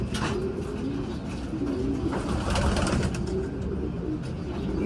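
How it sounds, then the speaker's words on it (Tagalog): Racing pigeons coo in a steady, overlapping chorus at close range, soft repeated low calls continuing throughout with faint background rustle. "Ayan mga kalapatids."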